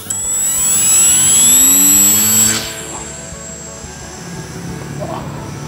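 The motor of a homemade RC glider runs at full throttle, a loud, rising high-pitched whine that drops away after a couple of seconds to a fainter, distant drone.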